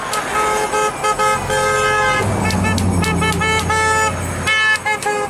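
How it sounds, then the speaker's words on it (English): Several car horns honk in repeated toots from vehicles stuck in heavy traffic, some long and some short, loud and overlapping, with a low engine rumble underneath. "Honk your horns."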